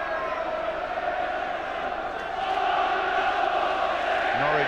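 A football stadium crowd at a Norwich City UEFA Cup match in 1993 keeps up a continuous roar of cheering and chanting, swelling slightly louder toward the end.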